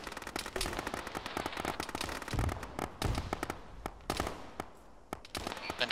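Grenade blast and gunfire in the Arma video game, with a dense, rapid string of sharp cracks and pops plus a couple of heavier low thuds, all at moderate level without talk.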